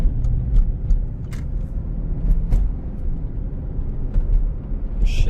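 A Mercedes-Benz SL 550 convertible is driving, its steady low engine and road rumble continuous throughout with a few faint ticks and clicks on top, no talk.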